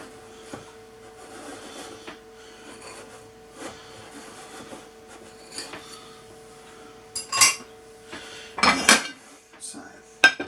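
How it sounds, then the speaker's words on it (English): A knife run around a steamed pudding in its basin scrapes and clinks against the bowl, with soft scraping at first, then a few louder metallic knocks and clatters toward the end. "Let me see if I can't run a knife around it."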